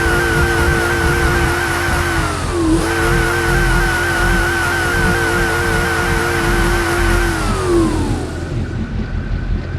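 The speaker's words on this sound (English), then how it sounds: "Exhaust sound." BMW car in the BeamNG.drive racing game, its exhaust droning loud and steady with rising engine tones, a brief gear-change dip near three seconds and the pitch falling away toward the end, no talk.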